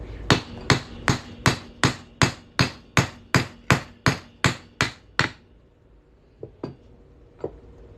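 A hammer strikes a large 1974 Eisenhower dollar coin about fifteen times in a steady, fast rhythm, each blow ringing briefly, followed by a few softer, scattered taps.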